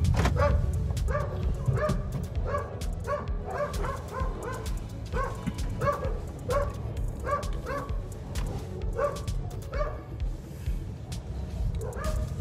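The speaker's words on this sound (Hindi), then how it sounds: "हमारे गली में कुत्ते बहुत हैं।" Street dogs bark at night in a residential lane, a long volley of repeated, rhythmic barks and yips from several dogs at moderate distance over low background rumble.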